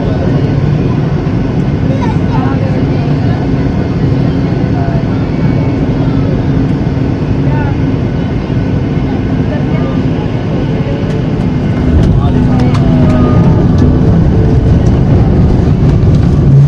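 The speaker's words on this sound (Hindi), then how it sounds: "हमारा जो जहाज़ है वो तकरीबन अब लैंड करने वाला है।" Passenger airliner landing at Dubai airport, heard from inside the cabin as a steady, loud broadband roar of engines and airflow that persists throughout, rising slightly near the end as the plane nears touchdown.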